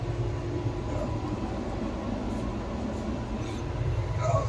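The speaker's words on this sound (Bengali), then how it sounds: "নৈহাটি ছাড়ছে ট্রেন।" The Sealdah–Balurghat Express pulls out of Naihati station, a steady low rumble of wheels and carriages that holds at an even level from start to finish.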